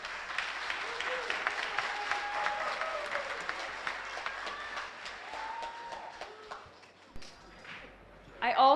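Band parents get a long round of applause from a spring concert audience, broad clapping mixed with crowd chatter and cheering; it thins toward the end before a louder burst of close claps and voices.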